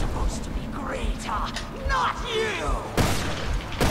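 Resident Evil Revelations 2 gameplay gunfire cracks out in a few sharp bursts, the loudest near the end, amid game sounds while a player talks excitedly over it.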